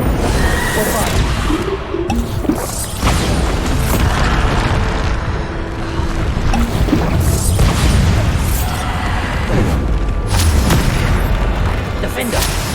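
Bombarda explosion spells from the Hogwarts Legacy video game burst repeatedly in a dense, loud battle mix, with booming blasts and other combat effects layered throughout.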